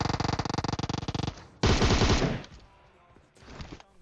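Rapid machine gun fire from the PUBG video game, a loud burst of evenly spaced shots, then a second dense burst after a short pause, followed by quieter scattered shots.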